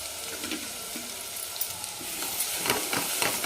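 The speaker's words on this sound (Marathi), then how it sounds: "तेल छान गरम झाल्यानंतर आपल्याला याच्यात जे आपण मसाला वाटलेला आहे तो टाकून घेऊ" Ground masala paste hits hot oil in a pan and sizzles and crackles loudly and continuously, with the sputtering growing denser toward the end and no voices present.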